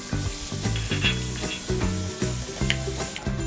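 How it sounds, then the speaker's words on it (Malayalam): Onions fry in melted butter for an Arabic shorba, giving a steady close sizzle broken by a regular rhythm of stirring scrapes. "നമുക്ക് സവാള ഇട്ട് ഒരു ഗോൾഡൻ ബ്രൗൺ കളറാകുന്നവരെ ഒന്ന് ഫ്രൈ ചെയ്തെടുക്കാം"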